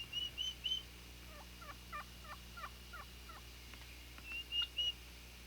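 Eastern wild turkeys call in a quick series of short, sharp yelps and clucks, with a few higher notes at the start and end, moderately distant and alone without any talk.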